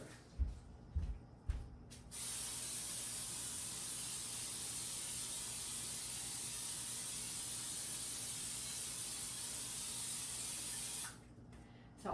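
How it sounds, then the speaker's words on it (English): A long, steady aerosol hiss of cooking spray runs for about nine seconds without pause over a sink, preceded by a few short knocks and rattles. "I spray it really, really good, and I spray it over the sink"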